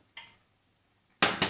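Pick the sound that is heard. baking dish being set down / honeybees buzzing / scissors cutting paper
baking dish being set down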